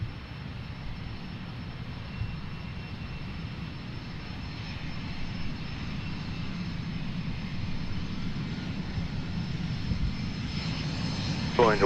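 Blue Angels jets 5 and 6 passing over the Seafair air show, a steady broadband engine roar that holds for the whole stretch and swells slightly toward the end, with faint crowd or commentary noise underneath.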